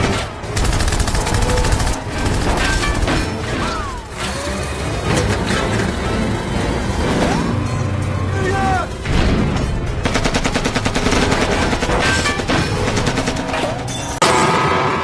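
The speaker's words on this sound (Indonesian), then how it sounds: "terjadilah tembak-tembakan disertai kejar-kejaran" Bursts of rapid film gunfire crackle repeatedly amid a dramatic action soundtrack during a chase, with engine noise and brief booms between volleys.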